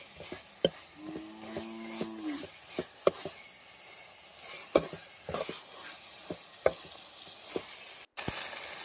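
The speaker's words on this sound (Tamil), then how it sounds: "அடுத்தது தக்காளி அதை போட்டு நல்லா மிக்ஸ் பண்ண வேண்டியதுதான்" Tomatoes for a fish curry stir and fry in a pan, with steady sizzling and repeated scraping clinks of a spoon; a faint tonal squeak rises briefly early on, and a sharp hiss jumps in near the end.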